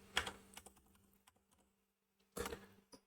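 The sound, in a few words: typing on a computer keyboard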